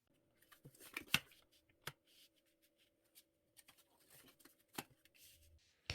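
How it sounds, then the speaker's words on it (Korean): Tarot cards are handled and drawn in a quiet room, with faint, sparse taps, slides and sharp card flicks spread over a low steady hum. "카드 뽑아 보겠습니다"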